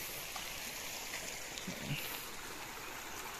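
A clear creek on farmland flows with a soft, steady hiss and gentle trickle, faint and continuous, with a couple of slightly louder splashes midway.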